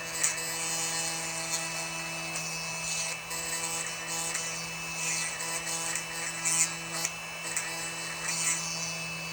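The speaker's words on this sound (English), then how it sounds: "I want to kind of get it drilled out a little bit." A small rotary tool or drill runs steadily, working a hole in a cured UV resin earring with dried flowers, a constant whining hum with slight load changes throughout, fairly close.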